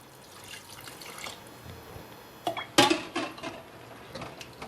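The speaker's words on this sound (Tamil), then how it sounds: "தண்ணி ஊற்றிக்கிங்க." Water poured from a vessel into cooking masala for an Indian egg gravy, a brief splashing pour in the middle of the clip against a quiet kitchen background.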